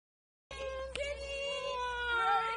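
After a moment of silence, a cat lets out a long, drawn-out meow, close and clear, wavering in pitch as it continues.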